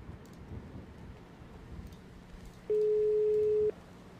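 A phone call's ringing tone in a GTA roleplay video game: a single steady electronic beep lasting about a second, sounding loudly over faint background noise.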